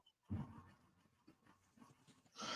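A dog pants quickly and rhythmically nearby in cold outdoor weather, soft breathy huffs with a faint whimper, fairly quiet, ending in a louder burst of noise.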